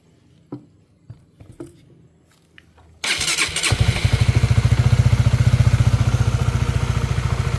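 A rebuilt Honda CBR motorcycle engine, its radiator refilled after oil starvation, cranks after a few quiet clicks and taps, then catches and settles into a loud, steady, rapid idle pulse close by.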